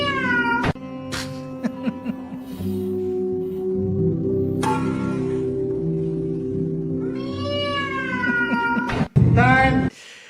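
A man imitates a cat with a long run of drawn-out meows and caterwauls in a played recording, the tones wavering and rising over a steady background hum, ending in a loud sharp burst.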